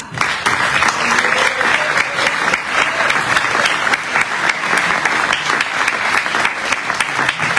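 A concert crowd in Italy at a tribute concert gives loud, sustained applause, a dense, even wash of many hands clapping that holds steady for several seconds.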